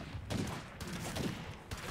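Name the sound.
gunfire from several people shooting a Juggernaut, State of Decay 2 video game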